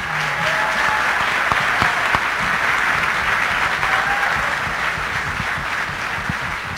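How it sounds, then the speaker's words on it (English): Audience applause in a packed standing-room hall at a Connecticut Republican governor debate, dense and sustained clapping from a large crowd that holds steady throughout, with faint voices mixed in. "How about a round of applause for everyone up here, guys?"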